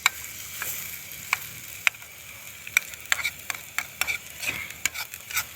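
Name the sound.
sautéing beef teppanyaki in a pan outdoors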